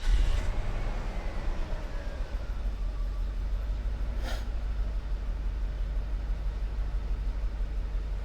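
Classic Mercedes car engine running at a steady idle, a constant low rumble close by with a brief sharp noise midway and no talk.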